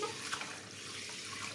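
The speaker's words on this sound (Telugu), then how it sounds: "అదేమో బియ్యం కడుక్కుంటున్నాం" Basmati rice being rinsed for biryani under running water in a home kitchen: a brief, faint, steady splash and trickle.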